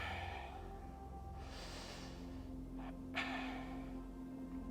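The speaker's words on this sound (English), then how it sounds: "just keep breathing, nice long breaths" Long, deep breaths drawn during a yoga stretch, slow airy inhales and exhales rising and falling close by, with a sharper intake of breath near the end and no talking.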